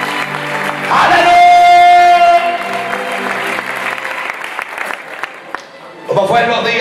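Church congregation applauding during a Spanish-language sermon, clapping swelling loudly then continuing steadily under a sustained sung or shouted voice and organ-like tones, with voices rising again near the end.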